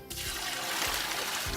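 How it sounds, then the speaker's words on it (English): Water poured onto animal dung in the mixing area of a farm biogas system, a steady broadband splashing and trickling rush that starts abruptly and continues evenly, close and fairly loud, with no talk over it. "and then pour our water."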